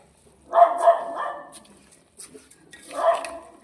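A dog barks in two short bursts, a pair of barks then a pause and another bark, moderately loud over a quiet room with faint clatter.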